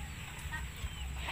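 Chickens cluck softly at a tilapia fish farm, a short burst of nearby fowl calls over a low outdoor background, with faint talk.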